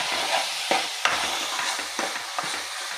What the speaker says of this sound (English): And going to stir it properly